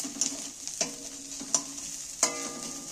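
Onion and garlic fry in oil, stirred with a spatula: four sharp scraping strikes spaced about a second apart over a soft, quiet sizzle, close by, with no voices.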